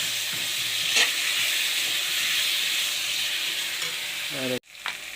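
Boiled potatoes and eggs drop into hot spiced oil with a dried red chili. A steady, loud sizzle and hiss with a spoon scraping and stirring, then a brief clatter and a sudden dip near the end.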